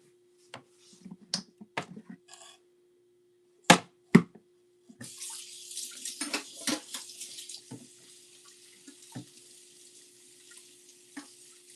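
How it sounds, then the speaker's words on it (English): Tap water runs steadily into a kitchen sink while a knife handle, slippery with pork fat, is rinsed under it, preceded by a few sharp clicks and knocks; close and moderately loud, no talking. "I'm gonna wash my knife handle really quick."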